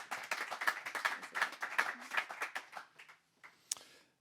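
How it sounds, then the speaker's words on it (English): Audience clapping welcoming a speaker onstage at a young leaders' event, a burst of fairly close claps that thins out and stops after a few seconds, followed by quiet with a couple of stray sounds. "let's give him a round of applause and welcome him to the stage"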